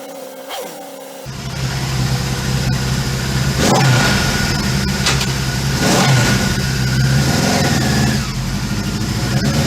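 A 1977 Suzuki GS 550 motorcycle engine fires up after a short lull and settles into a loud, close rumble, with throttle blips rising and falling at intervals over a steady running note.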